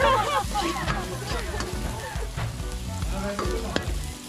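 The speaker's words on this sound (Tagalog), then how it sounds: "Sibuyas muna at saka bawang. Susunogin natin ang konti para masarap." Chopped onion and garlic frying in a pan for mung bean stew, a dense close sizzle with clattering stirs and scrapes throughout; a voice speaks faintly over it.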